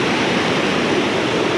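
Cascade Falls in Mill Valley roars after rain as a powerful waterfall, a loud, steady broadband rush of falling water that fills the whole clip without a break, close by and with no voices.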